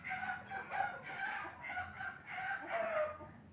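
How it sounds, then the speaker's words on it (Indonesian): A rooster crows in a short series of repeated calls at steady volume, close and clear, with no voices over it. "suara ayam"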